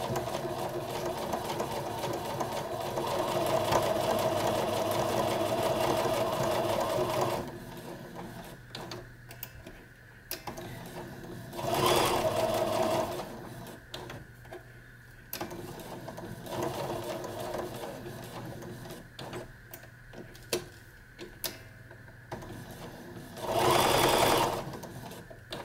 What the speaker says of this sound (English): I have a button that I push that puts the needle in the fabric on this machine.